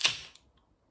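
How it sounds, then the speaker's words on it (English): A single sharp crack and hiss as a can of rhubarb and custard pale ale is opened up close, followed by a faint small click and near silence. "So I'm going to crack this beer open"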